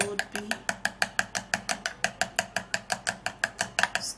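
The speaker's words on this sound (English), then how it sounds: "stirring and mixing it all up together" A utensil beats banana into egg whites and yolk in a bowl, a brisk steady run of about twenty close, clinking strokes against the bowl side.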